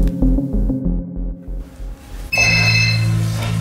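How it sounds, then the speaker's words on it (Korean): An incoming call to a telephone in the Korean film Seven Days starts ringing abruptly after a low, throbbing pulse, then keeps up a loud, steady ring with no voices. "이런 상황에서 유괴범에게 전화가 걸려옵니다."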